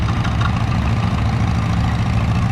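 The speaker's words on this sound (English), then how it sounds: "Up next is an Oliver Fleetrac OC3 tractor" An Oliver Fleetrac OC3 antique crawler tractor engine idles steadily at an outdoor antique tractor show, a close, continuous low rumble with even chugging throughout.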